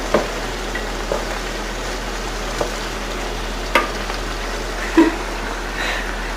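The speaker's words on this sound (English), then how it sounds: "So now we're just stirring food." Spicy chicken with vegetables fries quietly in a pan over a low steady hiss. A spoon stirs it, making occasional soft scrapes and clinks.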